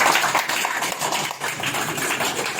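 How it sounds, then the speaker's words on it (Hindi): Scattered clapping from a small group of people for the winning child at a children's blowing game in Madhubani, a steady patter of hand claps with no talking. "इन्हीं के लिए ताली हो जाए आप लोग सब"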